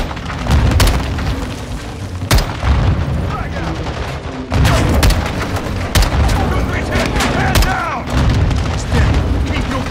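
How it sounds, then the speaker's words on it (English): Grenades burst in Call of Duty: Modern Warfare 2 gameplay, several sharp booms scattered among rattling gunfire in a loud firefight, with players talking over the combat. "They're launching grenades!"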